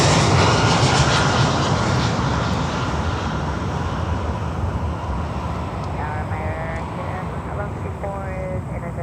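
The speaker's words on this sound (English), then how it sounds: "Look at this beauty here. China Airlines Cargo 777." Loud, continuous roar of Boeing 777 jet engines on a China Airlines Cargo freighter at Miami airport, broad and steady throughout, with a faint tonal whine rising late and people talking underneath.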